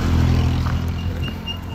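An auto rickshaw (tuk-tuk) rolls along a hill road between Charikot and Dolakha Bhimsen, its small engine a steady, close, fairly loud low rumble with some rattling clatter throughout.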